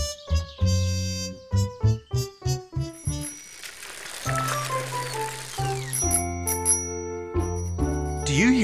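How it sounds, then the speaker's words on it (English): Bicycle bell on a cartoon character's bike in a children's show, ringing in a rapid series of bright, close dings, then trailing into brief musical tones and a spoken voice near the end. "That's the bell of Rat's bike"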